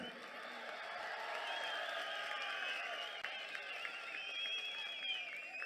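A large crowd at an outdoor political rally in Tiruchirappalli against the Waqf amendment law claps and cheers in a steady, dense wash that holds at an even, moderate level for the whole stretch.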